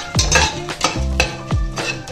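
Whole spices stirred in hot oil in a pot for paneer biryani, with three scraping strokes of a metal spoon against the pan over a faint sizzle, close and distinct.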